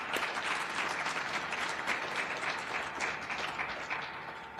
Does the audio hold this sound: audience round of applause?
yes